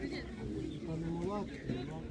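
Pedigree pigeons cooing at an animal market, a few low rolling coos rising over steady market background noise, with people talking nearby.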